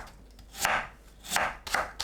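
A knife slices radish into flat bite-size pieces on a cutting board, three crisp chops spaced evenly and close, with no talking.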